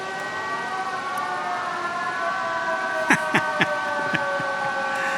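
A practice-drill air raid siren wails steadily from a distance over a campsite garden in the French Alps, its sustained tone broken by a few sharp knocks and clatters nearby partway through.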